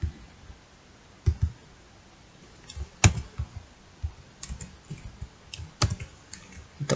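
Keys click on a computer keyboard in scattered bursts, typing code for a programming exam, with short taps and a few sharper strikes spread across a quiet background.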